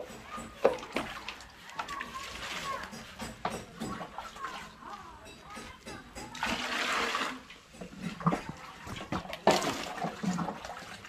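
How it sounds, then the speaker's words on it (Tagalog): Water is poured and splashed over a sack of cement to soak it, coming in uneven bursts of pouring and splattering between quieter moments, with a person talking in between. "Itali sa sako. Tapos lagyan ng tubig. Ibabad sa tubig."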